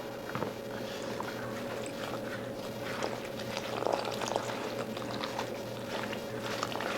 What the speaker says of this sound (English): to our flour, we are going to add 3 cups of cold water